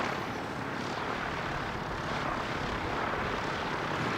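An aircraft cruises past an aero club, a broad steady engine roar at moderate distance, holding an even level with a gentle swell in the middle and no voices.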